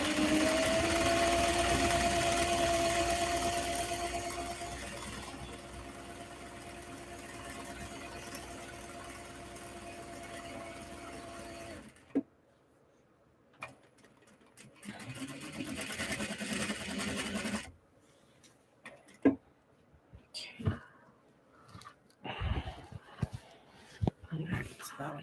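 Sewing machine stitching vibrant red fabric, sewn on interior and exterior, runs as a steady whirring hum for about twelve seconds, then short bursts and stops follow with handling clatter and some talk.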